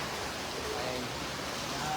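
Heavy rain pours down outdoors during a typhoon by a street food stall, a dense, continuous hiss at an even level throughout.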